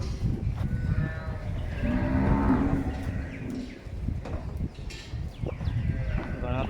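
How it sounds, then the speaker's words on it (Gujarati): Cattle at a Vir Vachhra Dada temple cowshed in the Little Rann of Kutch, with a drawn-out moo in the middle among other low animal calls and steady outdoor noise, and people speaking nearby. "ગાયો છે અહીંયા વેગરની"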